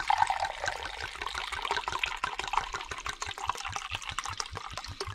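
Red wine pouring into a measuring jug, a continuous close splashing, gurgling stream of liquid at moderate level with no talk.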